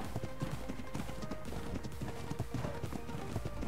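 Horse hooves clopping at a quick gallop across open ground in ARK: Ragnarok, a steady rhythmic beat sitting fairly quietly under game ambience.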